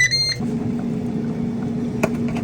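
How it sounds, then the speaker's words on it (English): Countertop air fryer humming steadily at close range, a low continuous motor and fan drone preceded by a few high electronic beeps as it starts. "Put it in my air fryer."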